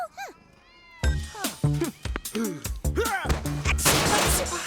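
Cartoon cats meow loudly and rapidly, several overlapping, rising and falling cries packed closely together, with clattering hits mixed in and a brief quiet meow before the burst.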